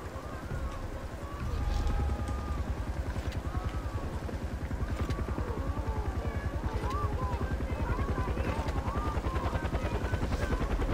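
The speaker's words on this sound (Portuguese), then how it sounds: "o helicóptero" Helicopter in the Far Cry 4 video game, a steady rapid rotor chop beating continuously and loudly throughout, with layered game sound effects mixed in.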